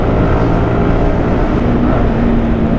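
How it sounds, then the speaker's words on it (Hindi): Yamaha R15 M 200cc motorcycle engine running loud and steady, a continuous low thrumming drone with wind rush, no pauses across the stretch. "ये 200 सीसी की मोटरसाइकिल के अंदर ये पंप महसूस कर पा रहे हो तुम?"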